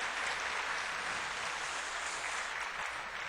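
A church congregation claps together during a Sunday worship service, a soft, steady patter of many hands that stays fairly quiet and even throughout, with no voices over it.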